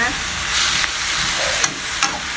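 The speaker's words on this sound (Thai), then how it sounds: "เราก็ผัดมันไปเลย ให้เขาสุกนะ" Vegetable spring roll filling with shiitake mushroom soaking water is stir-fried in a pan, giving a steady, close sizzle broken by a couple of sharp spatula scrapes.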